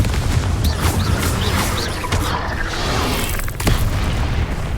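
Booming explosions from a Confringo spell in the Hogwarts Legacy video game, several loud bursts and pops in quick succession over a rumbling battle, with little speech.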